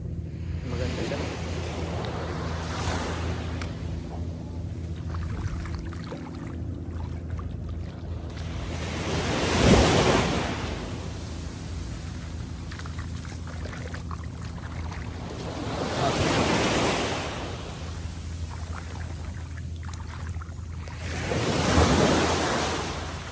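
Sea waves breaking at a beach resort in Eastern Samar, Philippines, three slow surges swelling and washing back over a constant low wind rumble, heard from fairly close on the shore.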